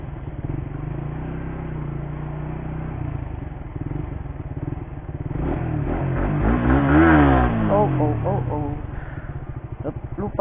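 A 2020 Suzuki GSX-R150 motorcycle revs with the clutch held in, first a loud rough idle-like drone, then rising and falling revs climbing sharply in pitch before settling, heard close up with riders talking over it.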